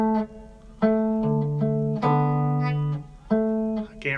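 A guitar plays a riff, a run of plucked notes and pinched harmonics with several sharp attacks and sustained ringing tones, heard close and clear with no talking.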